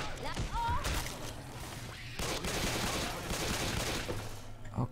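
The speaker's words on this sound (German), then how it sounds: "Ich kann nur mit der Handfeuerwaffe schießen" Pistol fire in the co-op zombie shooter Left 4 Dead 2, with repeated sharp shots and chaotic game noise throughout, loud and dense, with other in-game sounds layered underneath.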